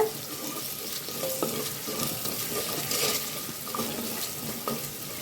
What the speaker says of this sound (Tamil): வெங்காயம் நல்லா வதங்கிட்டு இருக்குங்க.